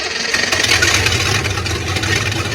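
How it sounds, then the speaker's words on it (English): A 1971 Datsun 240Z started cold with no choke settles into a steady, close rumbling idle, its engine running evenly throughout without stumbling. "Let's have a cold start"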